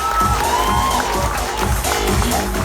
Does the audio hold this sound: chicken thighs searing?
no